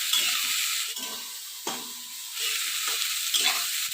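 Ginger and chillies fry lightly in a hot pan, a close, loud sizzle that surges again each time the spatula stirs, with no talk.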